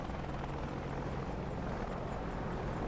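AH-64D Apache helicopter in the DCS flight simulator, with a steady, continuous rotor and turbine drone that stays constant and fairly quiet throughout, with no talking.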